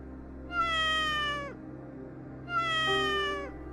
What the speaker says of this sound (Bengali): অচম্ভিতে দূর পথ থেকে ভেসে এলো একটা বিড়ালের ম্যাও ম্যাও চিৎকার।